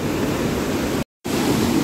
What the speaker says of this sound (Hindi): देखो जरा नदी का बहाव। अरे इतना भयानक कि डर लग रहा बहुत। ये है सरवरी नदी का बहाव